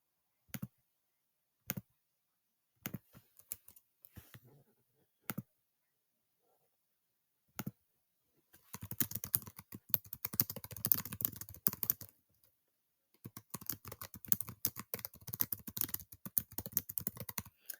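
Typing on a computer keyboard: a few sparse, isolated key taps, then longer runs of rapid, steady clicking with short pauses, quiet and close, with no voices.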